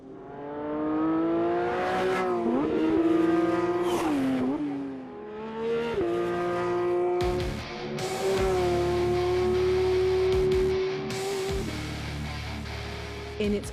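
A Porsche 911 GT3 of the 992.2 generation drives on a track, its high-revving engine rising and falling through gear changes, loud and close with a sharp shift in tone partway through, no talking.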